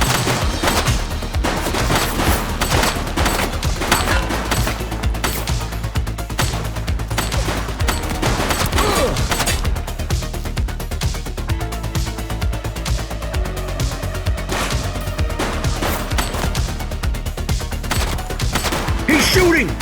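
Gunfire keeps going through a dense, loud stretch of game action, with repeated rapid shots layered under music and other effects throughout.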